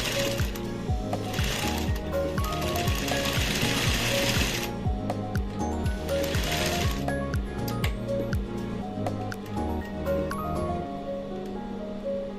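A sewing machine zigzag-stitches a cotton rope bowl with the stitch width set around 7 to 8, giving close, steady mechanical whirring and rapid rhythmic needle clatter that pauses briefly between runs.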